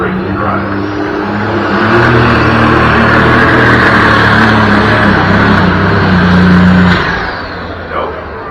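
A pulling tractor at a tractor pull roars loud and close, its engine climbing into a sustained high-revving howl for several seconds before easing off and dropping away near the end.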